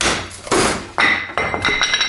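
Several sharp metallic strikes land about half a second apart, loud and close, each with a brief ringing tail, a hammer hitting a metal part while installing a scooter final drive gear set.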